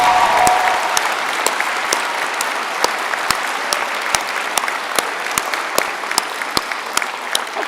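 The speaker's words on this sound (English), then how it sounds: "One more applause." Sustained applause from a commencement audience at the UCSF School of Pharmacy ceremony in Davies Symphony Hall, dense steady clapping for the full stretch, with a few sharper individual claps standing out.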